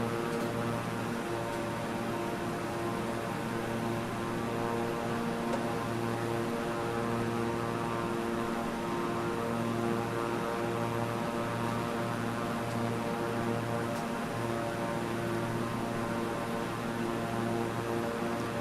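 A steady propeller airplane engine drones in flight within a video game, a constant loud hum with strong low harmonic tones and no change in pitch throughout.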